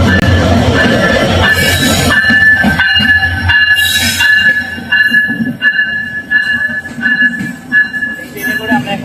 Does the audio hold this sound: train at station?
yes